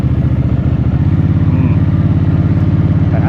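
An FKM Coolser 500 motorcycle engine runs close and loud, its steady throbbing putter rising slightly as the throttle is opened.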